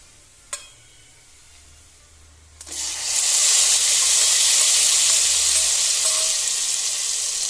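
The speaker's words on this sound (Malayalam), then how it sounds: "ഇനി തീ ഓഫ് ചെയ്ത് ഇത് പായസത്തിലേക്ക് ഒഴിച്ചു കൊടുക്കാം" Hot sesame seed tempering poured into jackfruit payasam: after a short clink, a loud, steady sizzle bursts up close and hisses on continuously until the end, with no talking.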